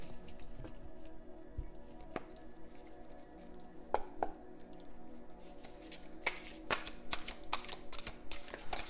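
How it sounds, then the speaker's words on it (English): An oversized oracle card deck is shuffled by hand in an intermittent series of soft riffling and slapping bursts, growing busier and louder toward the end, with no talking. "This deck is so big, it's difficult to shuffle"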